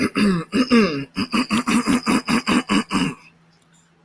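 Someone clears their throat in a long run of rhythmic, rasping bursts, close and loud, then falls quiet.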